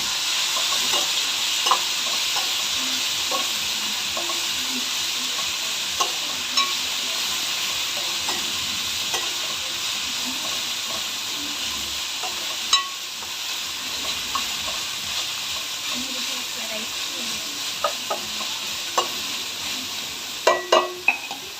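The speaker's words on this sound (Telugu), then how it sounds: "తర్వాత పుదీనా ఒక పిరికెడు, కొత్తిమీర ఒక పిరికెడు, మళ్ళీ అంతా కలపాలి." Steady sizzle of a veg biryani mixture frying in a pan while handfuls of mint and coriander are stirred in, with scattered scrapes and taps of the spoon throughout and a cluster of louder clicks near the end; no talking.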